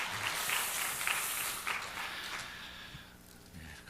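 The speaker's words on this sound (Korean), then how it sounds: "박수 한 번 더 해주세요" A church congregation at an Easter Sunday service applauds, a soft, fairly distant patter of clapping that stays steady for a few seconds and then fades out.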